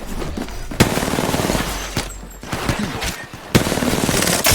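Rapid automatic gunfire from Apex Legends, loud and close, with bursts of shots broken by brief pauses and a few sharper single cracks.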